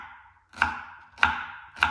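Three sharp knife chops cut through chicken for stew on a cutting board, each a loud, close thwack spaced about half a second apart.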